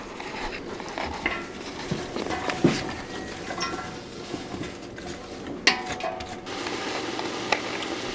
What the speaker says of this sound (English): So then we're going to start stirring.